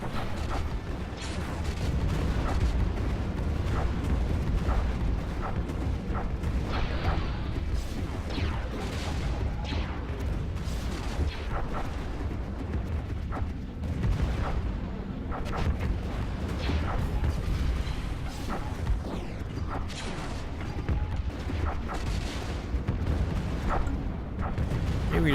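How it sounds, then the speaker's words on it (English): Space fleet battle in the strategy game Stellaris, with a dense, continuous barrage of booming explosions and weapon fire that stays loud throughout, punctuated by repeated sharp blasts. "There's a big explosion. There goes another explosion."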